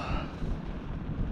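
Cold wind blowing hard into the microphone outdoors, a dense continuous low roar and rumble with steady buffeting and no pauses across the brief stretch, no voices.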